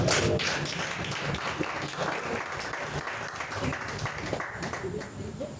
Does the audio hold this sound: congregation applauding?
yes